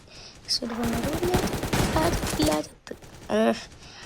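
Shotgun fire in the browser shooter game DEADSHOT io: rapid loud bursts of gunshots through the middle, a short lull, then another burst, over game sounds.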